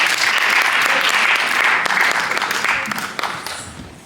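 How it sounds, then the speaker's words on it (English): Audience applause fills a hall after a dance team's performance at a community showcase event, dense sustained clapping that gradually thins and softens toward the end. "another round of applause for Litmus Dance team."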